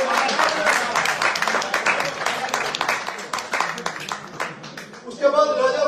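Crowd applause at a Pakistani overseas forum's independence celebration in Sweden, greeting the forum president: a dense, steady spatter of many hands clapping for about five seconds before it thins and a voice takes over.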